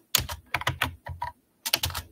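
Quick bursts of clicking keys on a computer keyboard, close and clear, in short irregular runs separated by brief pauses, with no voices.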